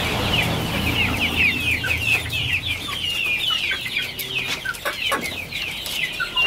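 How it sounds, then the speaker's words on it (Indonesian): KUB chickens on a small Indonesian farm cluck and chatter continuously, several birds close by in a busy overlapping flock. "Nah, ini ayam-ayam sangat bahagia, teman-teman."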